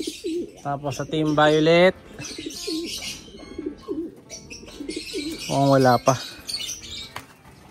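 Pigeons coo and flap their wings at a loft as checkered birds come in, with soft cooing, bursts of wingbeats and chirps close by, while someone talks over them in between.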